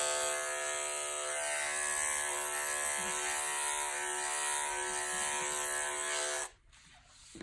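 Electric dog clippers fitted with a clip comb run over a dog's coat during grooming, a steady close high-pitched buzz that cuts off abruptly near the end, with no talk.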